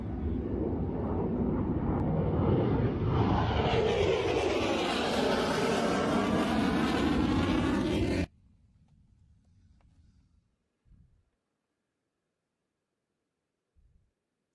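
A military jet roars loudly and close for about eight seconds, its pitch sweeping as it passes overhead, then cuts off abruptly, leaving near silence with a few faint low thumps.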